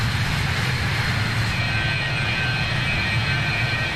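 A BAE 146 four-engine regional jet roars past in a Microsoft Flight Simulator flyby, a steady loud broadband engine rush with a high whine entering partway through, alone without talk.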